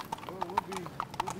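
Hooves of a police mounted patrol horse clip-clop on pavement in a quick, uneven run of sharp knocks, fairly close but soft, while people talk quietly in the background.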